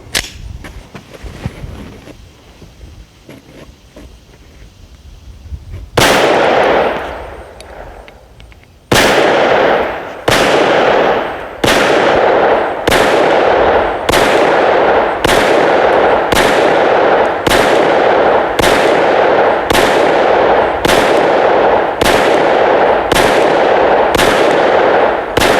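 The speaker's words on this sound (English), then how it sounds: "So we'll go ahead and take some more shots." Sharp, loud gunshots from a Smith & Wesson M&P 22 Magnum pistol, about fifteen evenly spaced cracks fired at a steady pace after some quiet handling sounds at the start.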